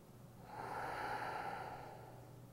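A slow diaphragmatic breath drawn while the abdomen expands, one long airy inhalation that swells through the middle and fades, close and alone.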